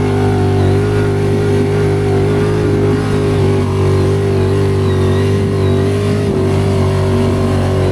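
Kawasaki Brute Force 750 LE ATV engine, 2025 model, revving loudly and steadily up close with a strong low harmonic drone, ridden over rough Nova Scotia terrain on Bighorn 2.0 tires.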